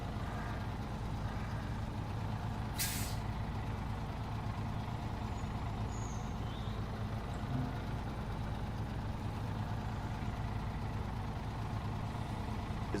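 A heavy truck in the snowy off-road game SnowRunner rumbles at a steady low idle throughout. A sharp hiss of air brakes cuts in briefly near the start.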